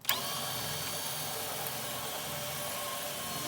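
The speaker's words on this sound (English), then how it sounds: "You want to start with the screw gun." A screw gun backs small screws out of a TV casing, producing a sustained, steady whirring motor buzz that starts abruptly and holds at an even level, close and alone, with no talking.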